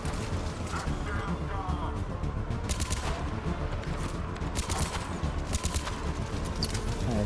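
Assault rifle fire in Mass Effect 3 Legendary Edition, bursts of rapid shots crackling through dense combat noise, loud and continuous for several seconds without speech.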